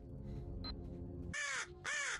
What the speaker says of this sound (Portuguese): Cala-te, maldito corvo!